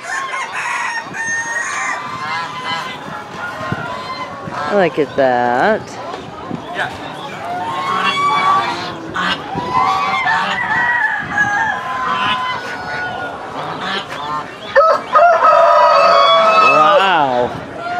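Chickens and roosters at a flea market animal section cluck and crow repeatedly, close and loud, with several overlapping calls while people talk nearby.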